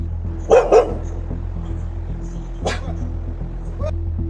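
A big dog met on a night street gives two quick barks close by, then a single sharper bark a couple of seconds later, over a steady low hum of background noise.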